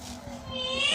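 A person's voice imitating a cat's meow, a single drawn-out nasal tone rising in pitch at close range in a home.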